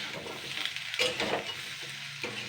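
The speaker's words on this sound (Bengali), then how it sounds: "এটা দিয়ে আমি আবারও 1 মিনিট নাড়াচাড়া করে নেব।" Vegetables cooked in very little oil with salt, sugar and turmeric, stirred in a pan, producing a soft continuous sizzle with intermittent scraping strokes.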